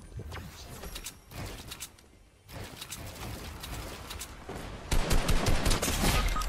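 Rapid gunfire crackles in the video game Fortnite, bursts of shots in the middle distance that grow louder and denser near the end, with no talking.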